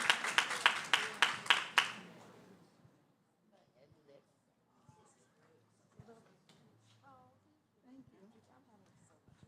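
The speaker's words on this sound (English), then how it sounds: "Clap it up for Jazz, everybody." Audience clapping at an indoor community session, a burst of about seven or eight sharp, loud claps in quick succession that fades after two seconds, followed by quieter talking.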